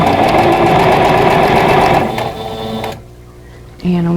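Sewing machine stitching quilt block pieces for a vintage pieced tulip block, a loud rapid mechanical chatter for about two seconds that slows and stops, followed by quieter handling sounds and a brief burst of speech.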